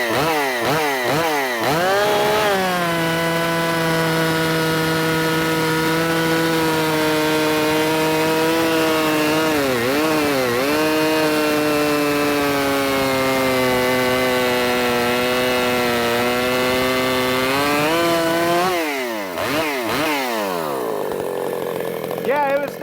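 A ported Jonsered 625 II chainsaw screams at high revs, bogging briefly as it bites into wood, then holds a steady loud whine through the cut before revving down near the end.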